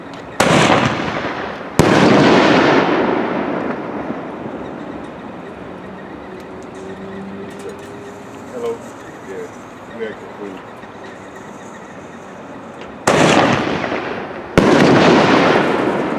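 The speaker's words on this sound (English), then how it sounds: "Hammer Shells by Pro Fireworks." Pro Fireworks hammer shells bursting outdoors, loud booming explosions at the start and end with crackling between, and people talking nearby.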